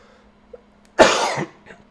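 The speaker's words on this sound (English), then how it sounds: "Sorry about the coughing" A single harsh cough close to the mic, one sharp burst trailing into a rough breath, in an otherwise quiet room.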